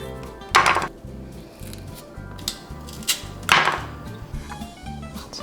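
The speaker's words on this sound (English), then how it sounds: "So I'm gonna just chop these up like this, kind of in this shape." Knife chopping fresh ripe peaches with the skin on, a steady run of wooden thunks on a cutting board with two sharper, louder strikes, close up with no talk.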